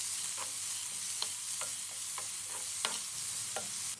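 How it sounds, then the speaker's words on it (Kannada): Onions sizzle steadily in a hot pan with cumin, a constant broadband fry with faint scrapes of stirring every half second or so, close and moderately quiet, no voices. "ಈರುಳ್ಳಿ ಸಾಫ್ಟ್ ಆಗೋವರೆಗೂ ಫ್ರೈ ಮಾಡ್ಕೋಬೇಕು"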